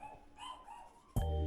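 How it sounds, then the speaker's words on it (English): Dogs go off outside a home near the pool, a sudden loud bark breaking in near the end after quiet background noise. "The dogs are going off."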